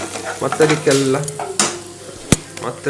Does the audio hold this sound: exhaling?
no